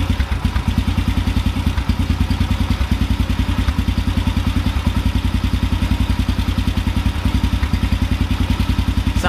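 An engine idles roughly during a carburetor idle-drop adjustment, with loud, close, rapid pulsing firing beats in an uneven loping rhythm and no voices.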